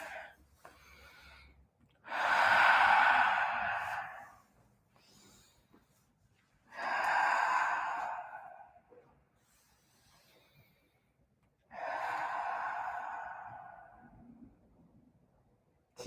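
Deep, slow breaths during a Rocket yoga flow class: three long, airy breaths spaced several seconds apart, close and fairly soft, with no talking.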